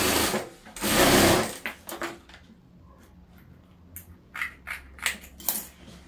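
A sewing machine stitches a patchwork table runner made from fabric scraps, with a loud burst of running at the start, followed by quieter handling clicks and short taps.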